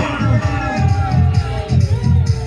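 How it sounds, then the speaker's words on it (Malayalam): Spectators cheering and clapping at a Kerala sports match between Brothers Banam and Friends, a steady crowd roar with whoops, loud and continuous, with a commentator's voice over it. "കാണികളുടെ കയ്യടികൾക്കൊപ്പം"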